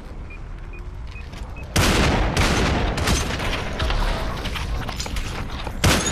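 Loud, sharp sniper-rifle shots in a shooter game, AWP-style, with one sudden heavy blast followed by a rumbling tail and another crack at the end, after a quieter stretch with faint beeps.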